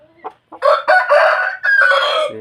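A young fighting rooster crows nearby, a single full cock-a-doodle-doo call preceded by a couple of short clucks, loud and clear with no talk.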